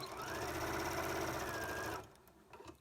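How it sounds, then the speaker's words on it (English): A sewing machine runs steadily, stitching a quarter-inch seam on quilting fabric, with a quick, even mechanical whir for about two seconds before stopping into quiet room tone. "So then you're going to sew from this end all the way through to the other end."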